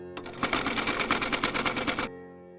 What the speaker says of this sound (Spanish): cose justo en la línea de costura para cerrar el doblez del vivo